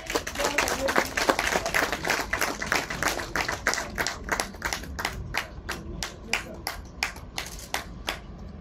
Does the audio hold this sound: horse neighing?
no